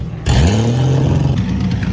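Race car engine revving at a circuit during autumn track days, a loud close roar that rises sharply and holds with a rough mechanical edge.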